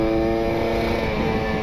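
A Kawasaki Ninja RR two-stroke with a PWK28 carburetor on a rich jet setting and an R9 Neo Mugello carbon exhaust runs close and loud, holding a steady, buzzing engine drone throughout the short burst.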